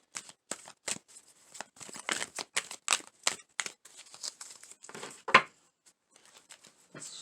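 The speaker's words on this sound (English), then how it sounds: "Let's shuffle one more time." Tarot cards being shuffled for a Capricorn reading: a quick string of crisp, papery riffles and flicks that comes close and fairly quiet in bursts, pausing briefly before the final cluster.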